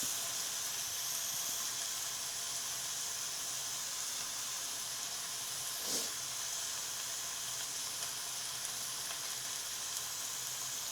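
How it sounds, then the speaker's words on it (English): Chicken sears in a pan on a stove set to high heat, giving a steady, close sizzle and hiss of frying that runs unbroken, with one brief louder crackle midway. "let it have time to sear"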